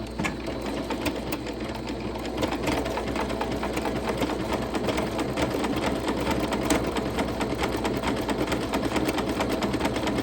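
A sewing machine zigzag stitching around the raw hem of a crochet skirt runs steadily and close, a continuous rapid mechanical whir with no pauses.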